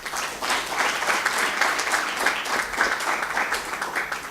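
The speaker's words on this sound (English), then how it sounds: "request our audience to clap again for our panelists" Steady applause from a crowd at a high-level panel dialogue, dense overlapping claps sustained at an even level for several seconds with no talking.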